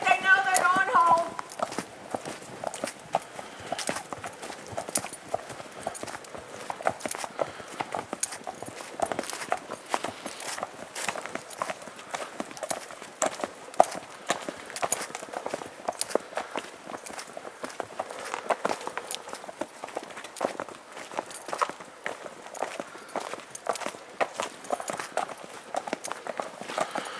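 Horses walking on a trail, with hooves clip-clopping in a steady irregular patter of close, crisp hoofbeats throughout.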